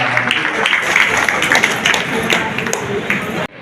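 Loud, dense applause from a crowd at a public government event in Bhiwani welcoming a cabinet minister, with steady crackling clapping throughout and voices mixed in, cutting off abruptly near the end.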